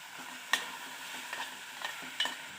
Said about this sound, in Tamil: மிக்ஸ் பண்ணி விட்டுக்கிடுங்க.